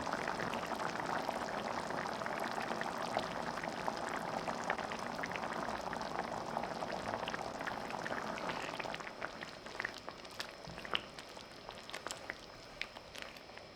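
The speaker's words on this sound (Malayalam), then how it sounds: "ഇതിപ്പോൾ നമ്മുടെ ഗ്രേവി നന്നായി തിളച്ച് വന്നിട്ടുണ്ട്." Egg curry gravy boils in a pot with a steady soft bubbling and popping, close and fairly quiet, thinning out toward the end with a few sharper pops.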